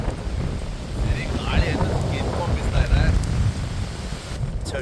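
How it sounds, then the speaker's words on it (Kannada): Strong wind with rain buffets the microphone in gusts in Coorg, with rushing air and a brief voice under the roar. "ಗಾಳಿನೂ ಆಯ್ತಾ ಇದೆ"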